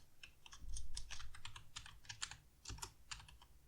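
Fingers typing on a computer keyboard while writing HTML code, a quick irregular run of close, crisp key clicks with brief pauses, no talking.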